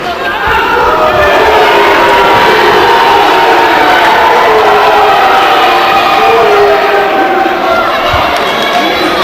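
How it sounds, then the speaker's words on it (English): Wrestling arena crowd in Bridgeport roaring and cheering steadily throughout, a loud dense wall of voices with shouts rising over it. "the streets are empty because the crowd is here in Bridgeport"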